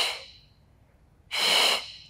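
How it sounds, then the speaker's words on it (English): Two audible breaths during a Pilates exercise for lower back pain, a short airy outbreath followed after a pause by a stronger, louder exhale, close to the listener with no talking. "We exhale."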